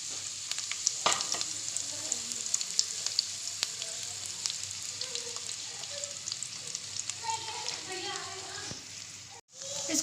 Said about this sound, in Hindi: यहाँ हमने लिया है 1/4 कप ऑयल और उसमें हम ऐड कर रहे हैं 2 दरमियानी साइज़ की स्लाइस हुई हुई प्याज है